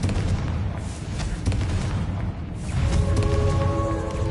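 A Confringo fire spell in Hogwarts Legacy lets off booming blasts, a few heavy bursts followed by a rumbling tail, loud and close amid game noise.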